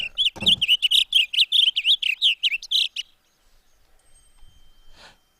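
A blue grosbeak sings a rapid, warbling run of bright chirped notes for about three seconds, close and clear, followed by a faint rustle and a brief final note.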